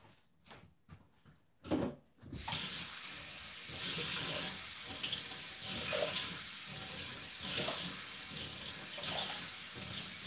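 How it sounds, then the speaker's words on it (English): Tap water pours steadily into a pot of rice with butter, a continuous close splashing rush that starts after a couple of seconds of quieter kitchen clatter and runs to the end. "Let me put some water in that."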